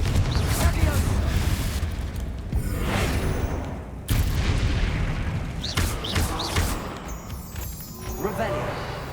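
Repeated Confringo fire spell explosions in Hogwarts Legacy, heavy booms and crashing bursts landing one after another amid combat noise, with talk over the top.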